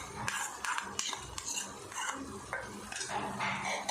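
A spoon stirs ginger garlic yogurt paste into chicken gravy in a pan on low flame, scraping and clinking against the metal in repeated close strokes with a faint sizzle underneath.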